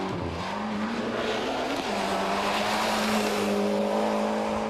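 A four-wheel-drive Ford Escort RS Cosworth rally car on a stage: a loud, steady engine drone holding near and strong throughout, with a brief rev dip early and tyre scrabble over the top.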